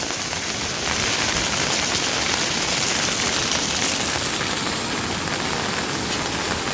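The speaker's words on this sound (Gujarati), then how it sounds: "વરસાદ આવો બહુ નથી આવતો." Heavy rain pouring down in a village during a flood, a dense, loud, continuous roar of drops hitting surfaces with no break.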